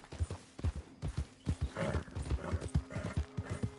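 Horse hooves clip-clop steadily in Red Dead Redemption 2, a close rhythmic trot with a brief whinny or snort in the middle.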